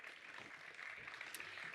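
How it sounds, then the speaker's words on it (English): Faint, steady applause from an audience at a science research pitch event, a soft continuous patter of clapping throughout. "Big applause"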